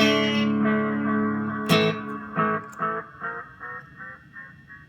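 A tape echo effect unit gives a distorted electronic tone, then a sharp hit whose repeats fade out in a series of decaying echoes.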